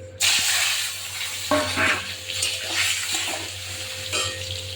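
Pointed gourd pieces dropped into a pan with mustard-poppy paste, a sudden close sizzle that settles into steady frying hiss with light stirring, no talk.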